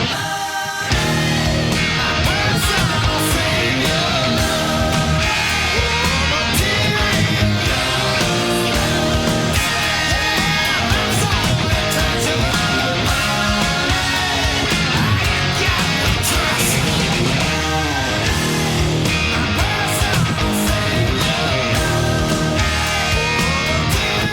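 Full-band rendition of the outro chorus with guitar, dense and loud throughout, running continuously with no talking.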